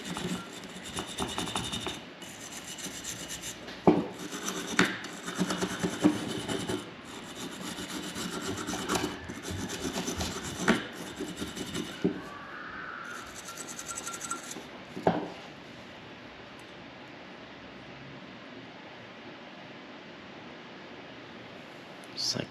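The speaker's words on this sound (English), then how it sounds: "Take this brass brush and kind of clean up this channel a little bit." Brass wire brush scrubbing a fuel channel on the carburetor of a 1983 Honda Big Red ATV, a steady rasping scrape of repeated close strokes for about fifteen seconds, then fading to quiet room noise.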